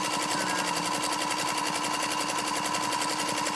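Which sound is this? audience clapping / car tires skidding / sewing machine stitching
sewing machine stitching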